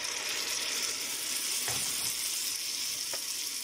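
Onions fry in a pan with tomato sauce for shakshuka, giving a steady close sizzle with a couple of soft stirring scrapes.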